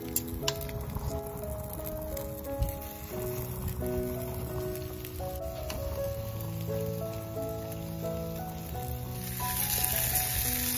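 Pompano fish stuffed with lemongrass sizzling over an outdoor grill, a continuous crackling hiss under background music, steady and close.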